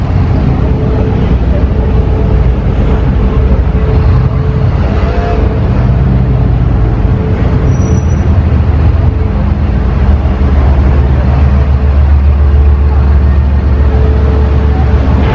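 A convoy of sports cars rumbles and roars past in a steady stream of engine noise in the mountains of Monaco, loud and continuous with a deep low-end drone throughout.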